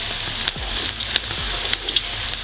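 Garlic sizzling in hot oil in a pan while fried potatoes are being made: a steady close hiss with a few small pops and faint clinks, and no voices.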